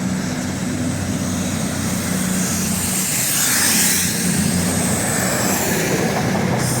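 A Class 220 diesel train pulling out of York station, a steady broad rumble and engine drone holding close and loud throughout, swelling slightly midway with no talk over it.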